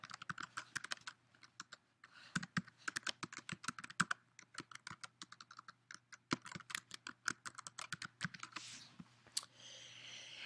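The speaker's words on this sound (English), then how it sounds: "So I'm going to click log in and type in my email." Rapid, irregular keystrokes on a computer keyboard as an email address is typed at a login screen, a steady run of close, crisp clicks with brief pauses, heard alone over a low hum.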